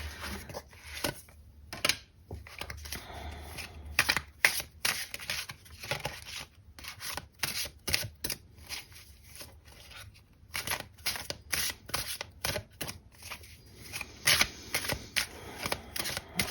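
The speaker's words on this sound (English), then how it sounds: "Let me also just shuffle your oracle deck" Oracle cards are shuffled in repeated riffling bursts with brief pauses between them, close by and crisp, with no talking.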